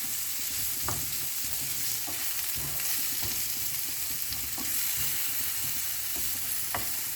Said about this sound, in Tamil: எண்ணெயிலே கொஞ்சம் வதக்கிக்கணும்.